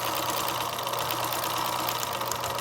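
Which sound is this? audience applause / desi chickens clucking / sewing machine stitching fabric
sewing machine stitching fabric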